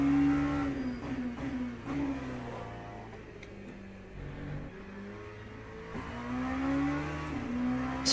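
An LMP2 prototype race car in Le Mans Ultimate, its engine note droning and rising and falling through gear changes and braking zones, loud and steady throughout with a faint voice underneath.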